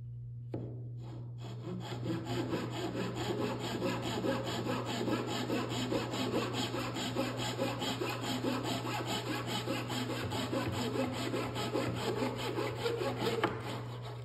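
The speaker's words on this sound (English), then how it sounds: "After sawing these little pieces, I needed to just get them nicely smooth" A hand saw cuts small wooden kumiko pieces, some of them wenge, for a glued-free media cabinet panel, giving a steady, close, rhythmic rasping stroke after stroke for about thirteen seconds with no talking.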